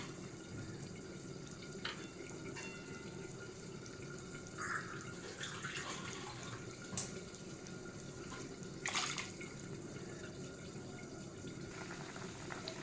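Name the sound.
water poured into pot for prawn pulao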